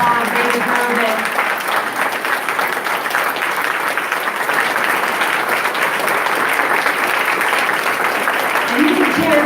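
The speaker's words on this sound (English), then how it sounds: "Please give them a big round of applause." A gala crowd at an MLK leadership awards event gives steady, dense applause for the nominees and winners, a sustained wash of clapping at even volume for nearly ten seconds.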